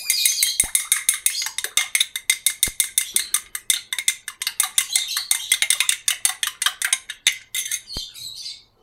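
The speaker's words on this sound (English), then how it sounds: "Just stir it well" A spoon stirring honey into a lemon drink, ringing against the glass in quick, rhythmic clinks that run steadily for several seconds, close and bright, then stop.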